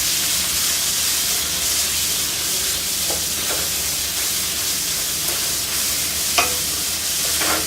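Soybean dal stirred in a pan over a loud, continuous frying hiss, with occasional soft spoon scrapes against the pan and no speech.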